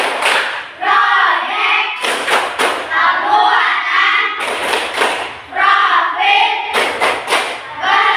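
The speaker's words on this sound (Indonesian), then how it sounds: "hari ini kita akan lakukan tepuk P5" A class of schoolchildren stands and performs the tepuk P5 clapping chant, sharp rhythmic claps in bursts together with loud chanting voices, close and energetic in a classroom.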